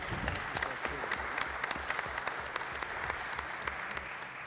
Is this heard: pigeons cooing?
no